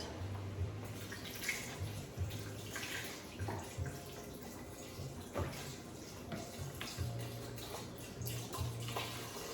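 Beef broth pours from a carton into a cooking pot for soup, a soft continuous liquid splash and gurgle at close range, faint and steady throughout.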